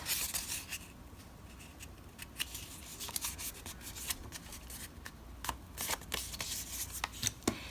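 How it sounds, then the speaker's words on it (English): A sheet of paper is folded in half for a heart rosette craft, giving close, crisp crinkles, rubs and sharp creasing swipes in irregular bursts throughout. "take your paper and fold it in half"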